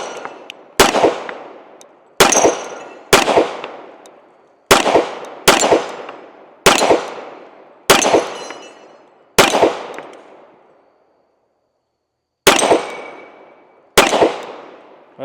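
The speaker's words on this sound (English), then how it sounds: "Let's go ahead and take a few more shots." Springfield Emissary 1911 pistol fired at steel spinning targets outdoors, about ten sharp, loud single shots spaced roughly a second apart with ringing decays and a longer pause before the last two.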